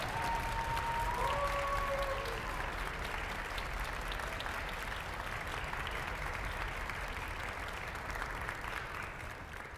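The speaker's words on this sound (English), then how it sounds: "give them a nice round of applause" A concert hall audience at a string honor orchestra event applauds parents, a dense, sustained roar of clapping that holds steady for the whole stretch with a faint tone early on.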